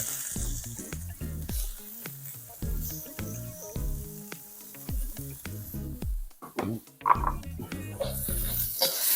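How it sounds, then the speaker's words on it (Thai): Pork sizzles and fries in a pot over the lowest heat while a utensil scrapes and stirs in quick, irregular strokes, with occasional clanks against the pot. "ผัดหมูให้สุกก่อนนะครับ"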